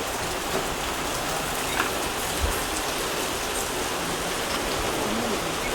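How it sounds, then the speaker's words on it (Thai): Steady, dense rainfall pouring down continuously, loud and close, with no breaks. "ชอบฝนตกในอากาศดีเลย"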